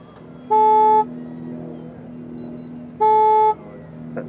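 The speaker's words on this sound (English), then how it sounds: "That's somebody's phone." A mobile phone rings at an outdoor radio-controlled model jet flying event on Rabbit Dry Lake. It gives two loud, identical electronic tones about half a second long, separated by a pause, over a low background hum.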